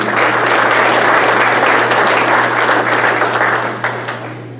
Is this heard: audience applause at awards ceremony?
yes